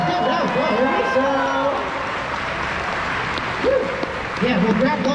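A crowd at a furry convention dance competition claps and cheers after a performance, steady applause with whoops, and an announcer talks over the noise.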